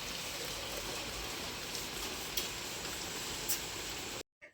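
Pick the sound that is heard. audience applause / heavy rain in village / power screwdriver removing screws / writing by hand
heavy rain in village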